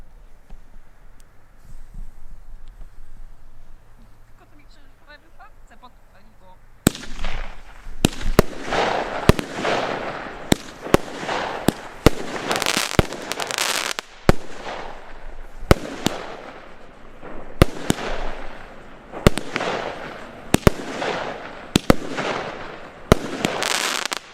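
A 16-shot Low Price Czarny firework cake fires after a quiet lead-in, loosing a run of sharp launch thumps and crackling bursts at an uneven pace, loud and close, with no talking.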